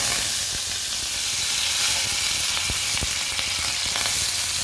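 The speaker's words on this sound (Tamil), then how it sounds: "வானலில் எண்ணெய் வச்சுருக்கேன் கடுகு போட்டுக்கோங்க" Mustard seeds and curry leaves crackling in hot oil in a pan, a loud, dense, steady sizzle with scattered small pops, close and alone.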